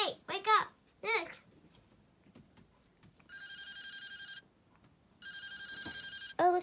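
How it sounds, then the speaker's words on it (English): An incoming call on a phone rings in two bursts of steady electronic trilling tone with a short pause between, moderately loud, while a childlike voice speaks briefly before and after. "Oh, looks like I got a call."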